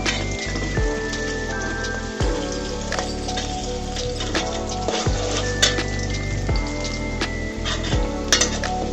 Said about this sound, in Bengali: পেঁয়াজটাকে সুন্দর মতো আমি নেড়ে চেড়ে নিব, একটু লাল লাল করে ভেজে নেব